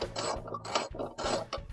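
A socket wrench tightens bolts while a Whirlpool washer transmission is reinstalled, making rapid ratcheting clicks in repeated strokes, close and steady, with no voices.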